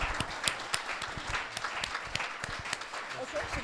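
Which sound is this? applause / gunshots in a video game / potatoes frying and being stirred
applause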